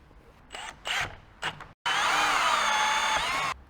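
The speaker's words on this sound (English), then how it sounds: "grab a hole saw" A 40 mm hole saw on a power drill bores through metal while fitting a bull bar, with a few short trigger bursts, then a brief stop and a sustained loud whining cut lasting nearly two seconds.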